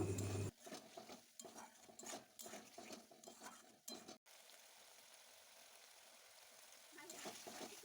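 Potatoes are stirred and fried with spice paste in a pan for a Bengali vegetarian soya chunk dish, giving repeated scraping and clattering spatula strokes over a soft sizzle, followed by a quieter stretch of gentle frying.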